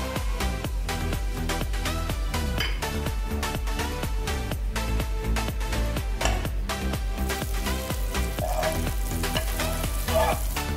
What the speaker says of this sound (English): First, we fry the butter.